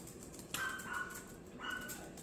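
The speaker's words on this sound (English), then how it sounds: "my sister's dog is in heat, so Tito wants it so bad. That's the barking y'all hear." A dog in a home, excited by another dog in heat, gives a couple of short high yips or barks, one near 0.5 seconds and another around 1.6 seconds, moderately close over a steady room background.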